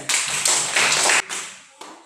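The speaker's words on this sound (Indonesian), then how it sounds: "Tepuk tangan untuk kelompok mereka." A short round of applause from a small group of schoolchildren in a classroom, several bursts of clapping that stop abruptly, then a few scattered claps.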